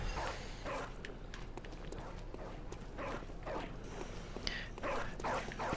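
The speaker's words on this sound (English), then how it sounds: "I feel bad for killing these dogs." Several dogs in the video game Bloodborne yelp and bark in short, irregular bursts, fairly quiet and spread across a few seconds, with some scuffling movement underneath.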